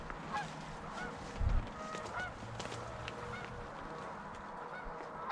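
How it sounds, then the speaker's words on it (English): A couple of geese honk in the open over a sheet of ice, faint and distant, with scattered calls spread through several seconds of quiet outdoor background. "A couple geese."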